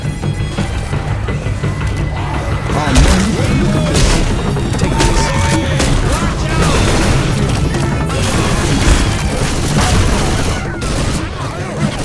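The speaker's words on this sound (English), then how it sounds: "Look out! Grenade!" Grenade blast in Left 4 Dead 2 amid loud, dense chaotic gunfire, crashes and booms, with game voices shouting over the din throughout.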